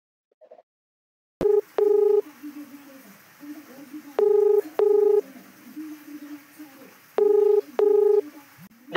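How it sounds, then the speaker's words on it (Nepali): Telephone keypad tones dial a friend's number in three pairs of sharp beeps, clear and close, with brief quiet gaps and faint background murmur between them. "यता उसको साथीलाई पो फोन गरी हेर्नु पर्यो"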